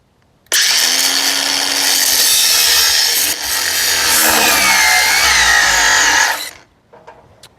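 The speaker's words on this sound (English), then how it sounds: "I'm going to sneak a blade in here, and we're going to just relieve the vehicle of that bolt" A saw blade grinds through a bolt on the engine of a 1955 Dodge Royal during a teardown, a loud continuous cutting roar lasting about six seconds with a brief dip midway, then stopping abruptly.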